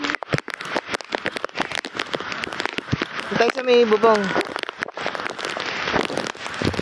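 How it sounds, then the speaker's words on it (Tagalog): Heavy rain pours onto a roof near Pico de Loro on the Hamilo Coast, a dense crackling patter throughout, while people talk over it. "lakas ng ulan"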